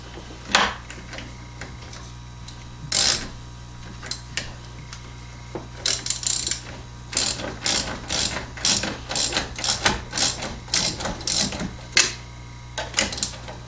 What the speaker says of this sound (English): you're going to need a wrench on the bolt on this side